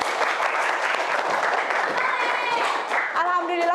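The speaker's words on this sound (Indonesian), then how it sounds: "Beri tepuk tangan dulu" Classroom applause from students in an Indonesian school lesson, a dense steady patter of many hands clapping for several seconds, with voices talking and calling out over it toward the end.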